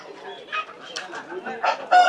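Broiler chickens at a village poultry market cluck and squawk in short bursts close by, mixed with people talking in the background.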